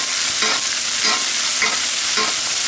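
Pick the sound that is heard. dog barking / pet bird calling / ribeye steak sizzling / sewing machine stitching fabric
ribeye steak sizzling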